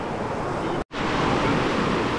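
Steady rushing flow of a river in the Malaysian highlands, loud broadband noise that cuts out for a split second before resuming just as strongly.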